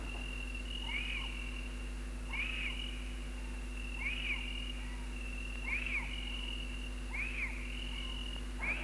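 Birds call in the forest at Angkor Thom, Cambodia: five repeated, evenly spaced high calls about every one and a half seconds, moderately loud over a steady humming background, with no voices.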